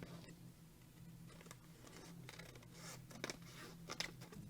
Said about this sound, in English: using my long neck scissors, I'm just going to trim off that book